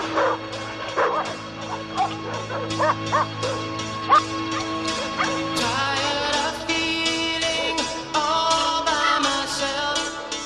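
Dogs bark, yip and whimper in a chase scene from the film Mac and Me, a rapid series of sharp calls laid over loud, upbeat music throughout.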